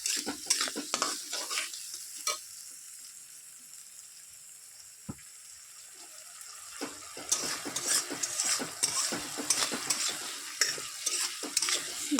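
Spice paste sautéing in a pan for a mixed vegetable curry: a continuous sizzle broken by scraping spatula strokes and clinks, quieter through the middle and busier again toward the end.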